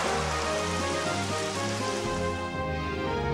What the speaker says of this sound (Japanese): 大雨になりました